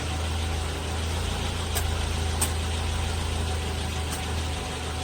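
A car engine idles steadily with a power inverter clamped to its battery, making an even low rumble and hum throughout with a couple of faint clicks and no speech.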